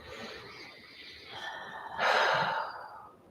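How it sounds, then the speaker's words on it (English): A deep breath taken during a thigh stretch, starting as a soft airy inhale and building to a louder, fuller breathy rush near the end, close and alone without talk. "One more deep breath here"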